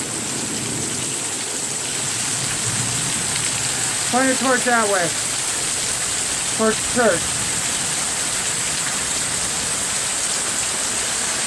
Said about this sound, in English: This is the hardest it's rained in a long time.